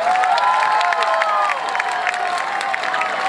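Festival crowd in Bauladu cheering for the Attoys Orchestra, dense clapping mixed with shouts and whistles from many people, sustained and loud from start to finish.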